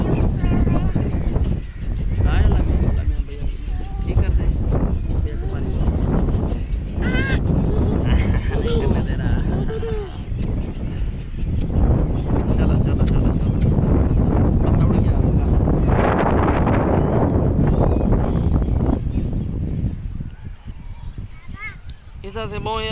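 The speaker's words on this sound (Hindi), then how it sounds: "इतना तेज़ हवा चल रही" Strong outdoor wind rushes and buffets the microphone continuously, loud and steady throughout, while people talk over it.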